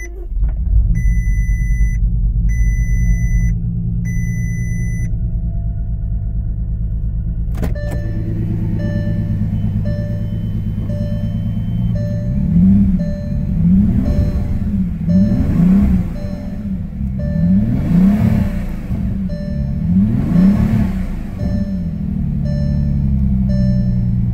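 A salvage Bentley Flying Spur fitted with a new fuel filter cranks over with warning chimes sounding, then its engine catches and settles into a steady close idle with repeated rising and falling revs, loud and without talk.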